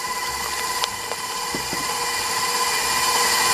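An electric mixer beats eggs into creamed butter and sugar for a white chocolate cake batter, a steady, loud motorized whine with a few faint clicks of the beaters against the bowl.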